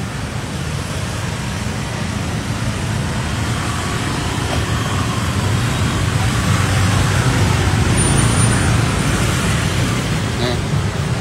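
Traffic backed up on a narrow street where a badly parked VinFast VF8 blocks vehicles, a steady loud wash of engines and road rumble throughout, with voices talking over it.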